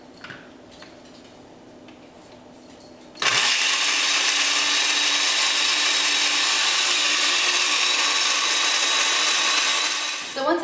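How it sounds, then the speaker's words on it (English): A countertop blender grinds almonds with water for almond milk, starting abruptly after a quiet moment and running loud and steady as a constant high whir, then cutting off near the end. "So we'll blend this up."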